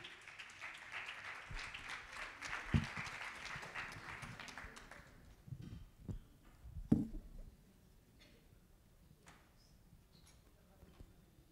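A conference audience at an energy storage and green hydrogen event gives a brief round of applause that fades after about five seconds, followed by quieter room noise with a few thumps and faint movement.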